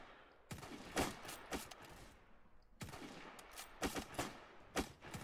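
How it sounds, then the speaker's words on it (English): Rifle gunfire in the Roblox survival game at Peking: repeated loud shot bursts in two clusters, cracking close by in a steady fusillade with no talk. "They have rifles, they have rifles now."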